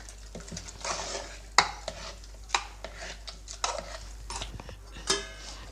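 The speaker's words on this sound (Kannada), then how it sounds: "ಹಾಕ್ಬಿಟ್ಟು ಗಂಟು ಇಲ್ಲದೆ ಇರೋ ಥರ ಚೆನ್ನಾಗಿ ಮಿಕ್ಸ್ ಮಾಡ್ಕೊಳ್ತೀನಿ" A spoon stirs poppy-seed milk into North Karnataka rice payasa in a pot, giving close, steady scraping and swirling with sharp clinks of metal on the pot and a faint low hum underneath.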